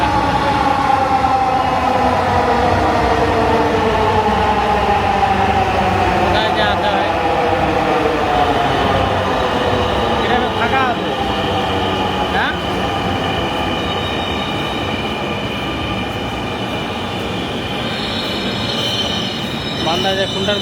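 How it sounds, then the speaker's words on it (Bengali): A metro train pulls into a station, its wheels squealing loudly against the rails as the pitch slowly falls while it slows, with a heavy, continuous rumble of the carriages close by. "ট্রেন চলে আসে"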